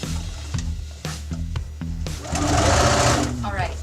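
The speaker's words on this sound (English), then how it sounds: "you're just going to sew the one piece together" Sewing machine stitching fabric pieces into a pocket bag, several short needle bursts in an uneven rhythm followed by a longer steady run, close and clear with a voice speaking over parts of it.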